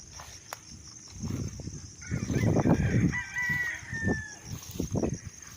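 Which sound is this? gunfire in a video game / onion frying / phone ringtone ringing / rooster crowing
rooster crowing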